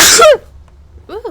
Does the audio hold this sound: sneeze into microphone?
yes